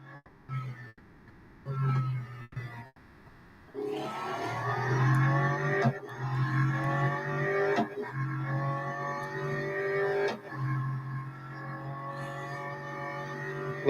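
A race car engine in the Real Racing 3 video game shifts up through gears, short revs giving way to a sustained high whining roar that climbs and drops with gear changes, loud and continuous.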